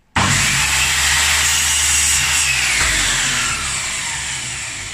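A MacAllister MMIS210C compound mitre saw, a budget model, starts abruptly and cuts through a piece of wood, giving a loud, steady whine with a rough sawing rasp that eases slightly toward the end; no talking.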